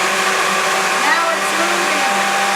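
A blender whirs steadily and loudly, a continuous high-pitched motor drone churning thick hummus.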